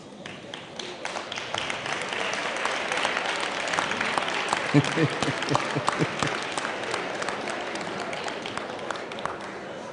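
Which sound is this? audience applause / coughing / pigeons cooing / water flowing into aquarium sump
audience applause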